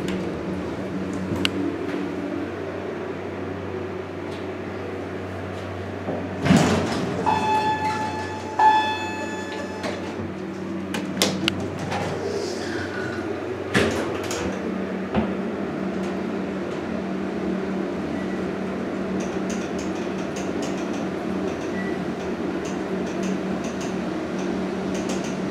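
A 1970 Westinghouse bottom-drive traction service elevator at a hotel runs with a steady low motor hum and relay control, with sliding door clunks and a few sharp mechanical knocks and clicks over a constant fan drone.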